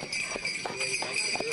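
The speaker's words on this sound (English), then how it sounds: "climb aboard a horse-drawn sleigh ride" Horse hooves clip-clop at an even trot while pulling a sleigh, about four evenly spaced knocks over a brief moment, heard under a steady high background tone.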